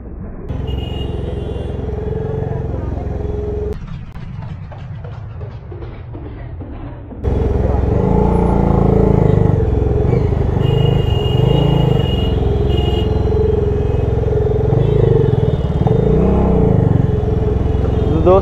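A modified motorcycle's engine rumbles close by on a test ride, ticking over and then growing louder and rougher as the ride gets underway.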